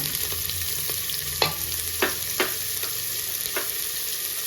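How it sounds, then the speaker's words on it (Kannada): Onions frying in hot oil for a South Indian chicken curry, a steady close sizzle broken by several sharp stirring scrapes, with no talking. "ಈರುಳ್ಳಿ ಚೆನ್ನಾಗಿ ಫ್ರೈ ಆಗಲಿ."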